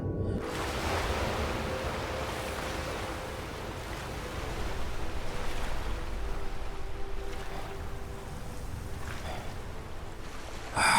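Water washes and splashes steadily around a swimmer in the Skyrim video game, a continuous, moderately loud rushing with no talk.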